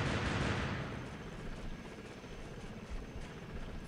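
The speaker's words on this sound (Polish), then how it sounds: "Mamy nasz śmigłowiec." A helicopter in the military shooter Delta Force: Land Warrior thumps with a loud, close rotor chop that eases slightly, with faint gunfire crackling around it.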